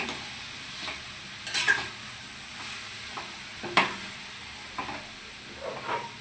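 Grated carrot frying in ghee for carrot halwa, with a gentle constant sizzle and occasional spoon scrapes against the pan, close and moderately quiet.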